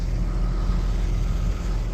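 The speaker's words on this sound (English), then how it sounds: "Tractor's running." A tractor engine's low, steady rumble runs throughout, a heavy motor idling or working nearby without much change in pitch.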